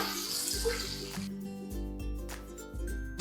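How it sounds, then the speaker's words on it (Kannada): Water poured into a pan of capsicum fry with turmeric, a short wet splashing and sizzling pour close up at low level, with no talking. "ಒಂಚೂರು 1/4 ಕಪ್ ಅಷ್ಟು ನೀರು ಹಾಕೊಳ್ತಾ ಇದ್ದೀನಿ"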